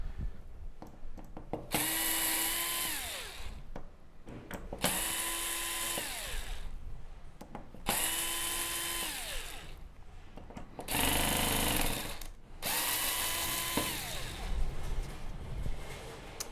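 Power screwdriver backing screws out of the main board of a Samsung UN65JS9000F television, four close whirring runs, each about two seconds with a falling pitch at the end, separated by short pauses.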